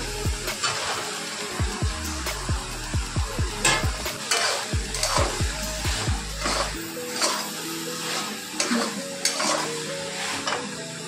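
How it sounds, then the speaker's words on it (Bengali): Fried soybeans for a coconut-milk curry tumble into a pan and get stirred, with a loud sizzle, sharp spatula scrapes and clinks of metal on the pan repeating through the stretch. "ভেজে রাখা সয়াবিন গুলো দিয়ে দিলাম।"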